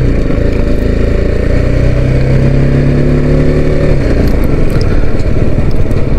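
A motorcycle engine runs steadily up close, its rising harmonic whine showing it revving through the gears before the pitch drops near the four-second mark as it changes gear, with no talking.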